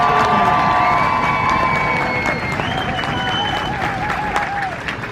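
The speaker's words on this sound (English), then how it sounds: "Please give them a round of applause." A crowd at an Army basic combat training graduation ceremony applauds the Army band, loud sustained clapping mixed with cheers and whoops, while whistles and a few high shouts rise over the noise.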